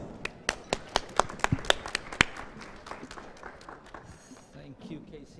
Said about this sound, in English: Let's give him all a big round of applause.